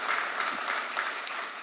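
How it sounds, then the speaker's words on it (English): Audience applauding a speaker at a political event, a dense, steady round of clapping from a crowd, moderately loud and fading slightly toward the end. "Give this man a round of applause as well for his leadership over the last couple of years."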